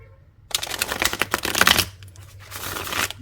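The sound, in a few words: shuffling a deck of tarot cards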